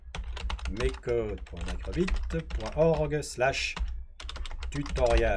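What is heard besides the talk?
typing a web address on a computer keyboard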